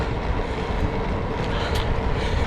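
Steady headwind roaring over the microphone while cycling on a ride to Belvoir Castle in winter, a continuous broadband rush with no speech.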